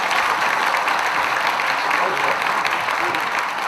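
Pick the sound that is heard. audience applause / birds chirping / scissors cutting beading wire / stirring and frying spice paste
audience applause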